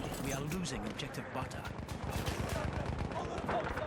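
Gunfire in the video game Battlefield 1, with rapid, steady bursts of shots under continuous speech from players talking throughout.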